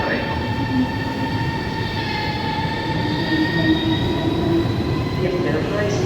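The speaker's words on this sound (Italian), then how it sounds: "now arriving at platform 19 instead of platform 18" A high-speed train runs through Bologna station with a loud, close, steady rumble and a sustained high metallic wheel squeal throughout.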